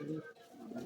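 A pair of pigeons, male and female, coo together in a loft in Naihati, short soft throaty burbles close by, with a voice speaking faintly around them.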